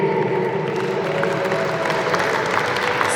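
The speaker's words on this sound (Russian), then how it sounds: "Друзья, еще раз дружные громкие аплодисменты." A crowd at a table tennis tournament ceremony applauds, a dense, even roar of clapping that holds steady throughout.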